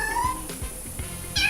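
Several short cat meows from a cat video, repeated at a steady pace and standing out clearly over faint background hum.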